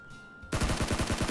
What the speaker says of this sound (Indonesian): itu kok ada suara tembakan cuy di kanan cuy